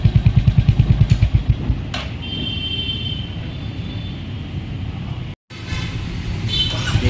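A Jawa Yezdi Roadster or Royal Enfield Hunter 350 motorcycle engine runs nearby. It opens with a few rhythmic low revs, then settles into a steady, loud idle-like rumble, broken by a brief cut near the end.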